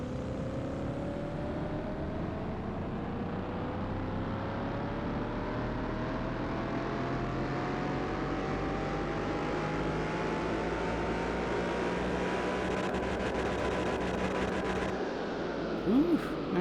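A tuned Mercedes-Benz SLS AMG with performance parts revs hard, its engine pitch climbing steadily over many seconds as a loud sustained roar, then cutting off sharply near the end.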